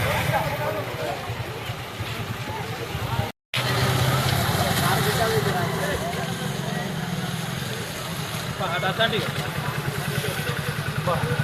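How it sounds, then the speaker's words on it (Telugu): Road traffic hums steadily: motorcycle and car engines idle and rev close by in a dense, continuous drone, with a brief dropout partway through. "మొత్తం ట్రాఫిక్ జామ్ అయింది"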